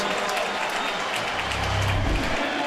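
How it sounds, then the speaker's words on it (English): A football stadium crowd cheers and applauds loudly for quarterback Drew Brees at a 2006 Bengals–Saints NFL game, a steady roar of clapping and cheering filling the space, with a deeper swell near the end. "these fans cheering Brees as he goes over the 300-yard mark"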